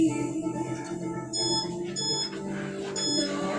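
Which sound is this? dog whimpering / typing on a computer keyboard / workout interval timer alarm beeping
workout interval timer alarm beeping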